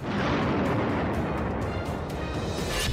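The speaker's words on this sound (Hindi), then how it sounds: "अमेरिका ने सफलतापूर्वक इस मिसाइल को लॉन्च कर दिया है" Minuteman III missile launching from Vandenberg Space Force Base in California, a loud continuous roaring rumble that stays steady and dense throughout, with no voices.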